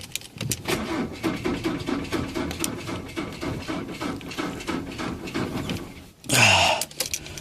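A car engine cranks steadily for several seconds on power from an OzCharge RescueMate battery-less jump starter, with a rhythmic churning turnover, then a brief, louder burst near the end.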